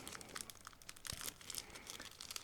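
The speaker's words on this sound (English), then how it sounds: "Next, I'm opening another plastic bag, so just give me a second to do so." A plastic bag from a Tamiya 1/35 A34 Comet model kit is opened close up, giving quick crinkling and rustling bursts in an irregular run.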